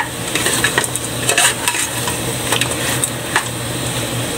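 A spoon stirs native pork adobo in a pan, scraping and clinking against the metal in loose, irregular strokes over a low, steady sizzle, close and fairly loud.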